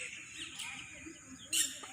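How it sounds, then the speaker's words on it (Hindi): Birds chirping outdoors, a few faint scattered calls over quiet background, with one brighter, louder chirp near the end. "चिड़ियों की चहचहाने की आवाज़ें"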